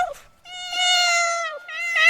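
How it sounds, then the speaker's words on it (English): Cat meowing in the game Getting Over It: two clear, close, drawn-out meows with a brief chirp at the start, each loud and tonal against silence. "Oh, I love the meows."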